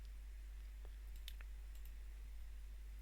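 Computer mouse clicking a software button at a desk, a few faint, sharp clicks clustered in the middle against a quiet background hum.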